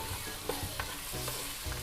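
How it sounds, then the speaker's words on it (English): Garlic browning in hot oil in a pan, giving a steady close sizzle broken by a few soft stirring scrapes, with no voices. "the garlic's now browning and getting a little crispier"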